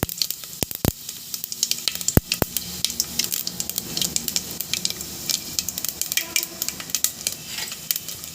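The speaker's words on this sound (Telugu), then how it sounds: "ఇందులో ఆవాలు జీలకర్ర మెంతులు వేసుకోండి వీటిని బాగా ఆడనివ్వండి" Mustard, cumin and fenugreek seeds splutter in hot oil, giving close, loud, irregular crackles and sharp pops over a steady sizzle. No voices.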